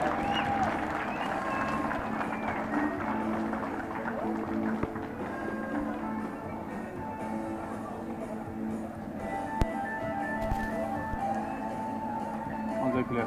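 A crowd applauds police officers of a rapid-intervention patrol group at a public event in Curitiba. The clapping and cheering stay dense and steady, with voices talking throughout.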